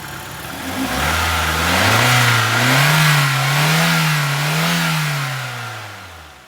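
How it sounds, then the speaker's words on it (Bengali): A smooth-running original 1300cc engine in a 2001 Nissan Sunny revs up from idle under the accelerator, holds a loud, close, wavering drone for several seconds, then eases back down. "আমি একটু এক্সেলেটর দিয়ে দেখাই দিচ্ছি।"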